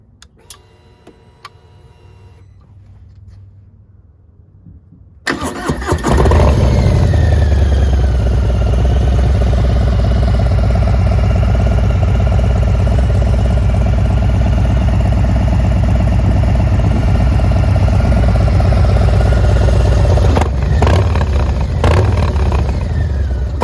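A 2022 Harley-Davidson Low Rider ST with a new aftermarket exhaust and tune: faint ticking first, then the engine fires loudly at about five seconds and settles into a deep, rumbling idle that continues close up.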